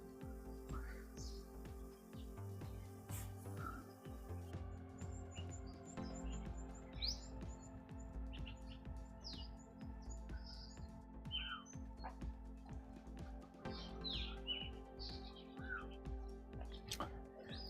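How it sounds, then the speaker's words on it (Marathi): Birds chirp in a small farm jungle patch: scattered short tweets and calls, some near and some farther off, over a faint steady background hum. "हे आमचं मिनी जंगल आहे इकडे जंगल आहे याच्यामध्ये खूप पक्षी पक्षी वगैरे आहेत"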